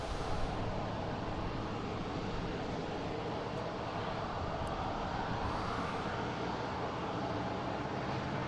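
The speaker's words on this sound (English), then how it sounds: "next taking off, we have Delta heading to Miami. 737-800, flight 776." Delta Boeing 737-800 taking off at Boston Logan, a constant dense jet roar filling the whole clip at an even level, fairly close and unbroken, with no voices.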